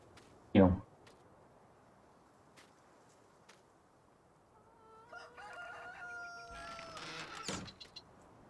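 Chickens in the farming game Farming Simulator 19, one loud squawk near the start, then quiet, then a drawn-out crow and clucking calls toward the end over a low ambient hum.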